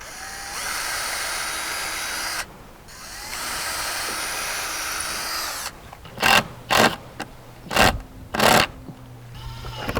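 A power drill boring pilot holes during deck repair and tool organization work, heard as several short, loud whirring bursts with brief pauses between them, following a longer stretch of steady drilling noise.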